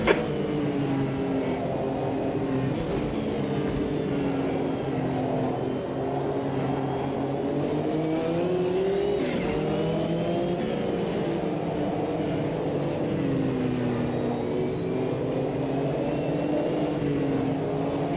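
A Group C race car in Automobilista 2 roars under full throttle at Suzuka's classic layout, a steady close engine drone whose harmonics rise and fall with the revs across the whole stretch, with no talk over it.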